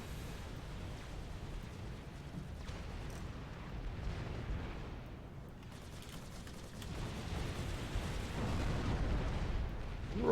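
Continuous rumbling battle noise from Supreme Commander, with layered weapon fire and explosions as units shoot and are destroyed, dense and steady throughout and swelling slightly toward the end.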